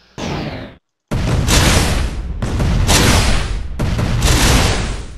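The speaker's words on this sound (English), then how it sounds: "The front turret is freaking out." A ship's front turret firing in Space Engineers: a short burst, a brief silence, then three long, loud rattling volleys of rapid gunfire following close on one another.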